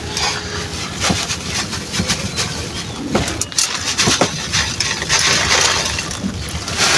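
Domestic pigeons being fed grit coo softly among scattered pecking and the light patter and clicks of grit grains, all close by with a steady rustling background.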